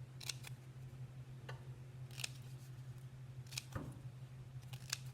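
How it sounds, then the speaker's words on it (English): Scissors snip through folded paper in several separate crisp cuts, each one a short sharp crunch, close and clear over a steady low electrical hum. "This way I'm cutting 4 times faster than I would be if I just cut it one piece at a time"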